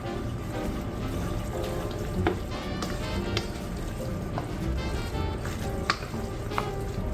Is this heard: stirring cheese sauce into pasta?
yes